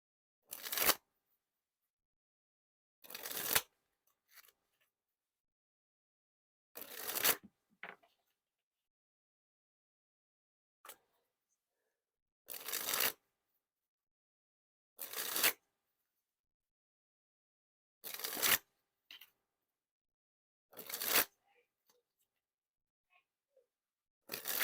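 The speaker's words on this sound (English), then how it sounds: "You got a nice clickiness to the cards here." Orbit Eighth Edition playing cards with a slightly clicky stock, riffled and dribbled in about eight short, crisp bursts of fluttering clicks spaced a few seconds apart, separated by silence and heard close up.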